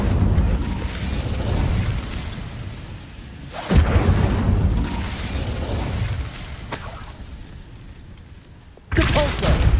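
An Incendio fire spell from Hogwarts Legacy erupts in loud roaring bursts of flame and crackling blasts, with sharp impacts near the start, middle and end over continuous rumbling game noise.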